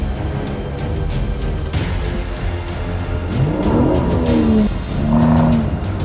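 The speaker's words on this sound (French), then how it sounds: "Je vais démarrer." A Volvo car pulls away from a standing start at a driving event, its engine note climbing in loud, rising pitch sweeps while tires briefly squeal, heard up close without talk.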